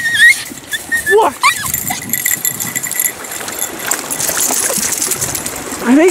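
A dog splashes and paddles through water, with sloshing and dripping sounds and occasional short vocal noises nearby.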